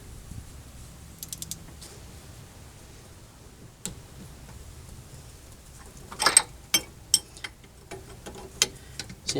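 Ratchet tightening rear brake caliper bolts on a 2014 Honda CR-V, faint clicks early on, then a run of sharper close ticking clicks in the last few seconds, no talk.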